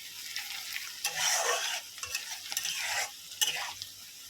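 Tilapia fish curry frying in hot oil in a home kitchen, a soft steady sizzle with a few scraping stirs and spoon clinks in irregular bursts, fairly faint, no talk.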